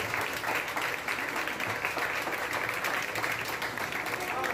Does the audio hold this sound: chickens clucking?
no